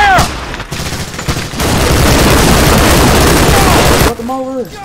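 Sustained burst of close gunfire from Medal of Honor: Allied Assault, a dense barrage of rifle and machine-gun shots with booms; it starts and stops abruptly with brief game voices and tones at the edges.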